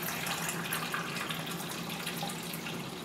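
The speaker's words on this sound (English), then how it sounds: "Let's take off the lid, so pour it out." E-6 film developer pours steadily out of a development tank into a sink, a continuous close, even splashing stream of liquid lasting throughout with no talking.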